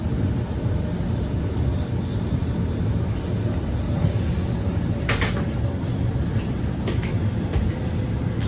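A Swiss IC8 train at Zurich main station gives a steady low rumble under the station hall's ambience, with a few brief sharp clanks toward the end and no talking.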